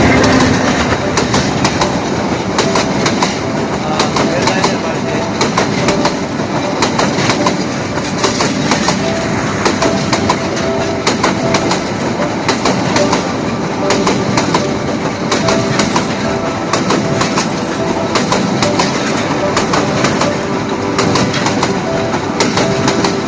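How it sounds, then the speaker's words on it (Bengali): A train rolls through the countryside near Gafargaon, Mymensingh, Bangladesh, with a loud, continuous rumble and a rapid clickety-clack of wheels on rails that stays close and steady throughout, with no voices. "দেখেন ট্রেনটি আসতেছে এখনই।"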